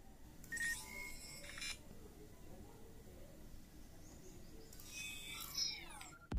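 A Vivo V15 smartphone's pop-up front camera motor whirs as the camera rises, with a brief chirpy mechanical burst near the start and another near the end, faint and close, over quiet room noise.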